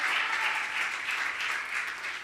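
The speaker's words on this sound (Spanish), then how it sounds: "Vamos a darle un aplauso." An audience on a flight claps for the flight attendant, a dense, steady burst of applause that stays fairly even throughout and carries no talk.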